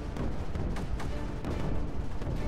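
Mortar artillery fire in the video game Creeper World 4, a continuous barrage of low booms and thuds layered into a dense rumbling wash, with a few sharper bursts standing out through the steady din.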